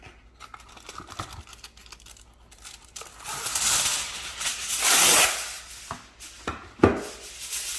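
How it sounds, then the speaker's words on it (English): Aluminum foil crinkles and rustles as it is pressed over a baking dish of cheese enchiladas with chili con carne, in close, uneven bursts that swell loudest midway. "So now I'm gonna cover with foil."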